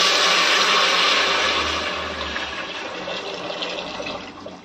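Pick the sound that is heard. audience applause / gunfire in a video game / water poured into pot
water poured into pot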